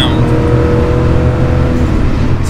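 A red 1986 Porsche 911 with stainless steel sports exhaust back boxes runs loudly and steadily up close, its engine note a dense, sustained roar with no talk over it.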